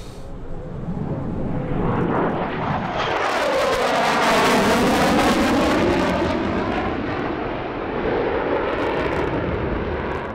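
An F-35 fighter jet flies a display at an airshow in Santa Maria in very humid weather. A loud jet roar builds, peaks mid-pass with sweeping tonal shifts, then recedes.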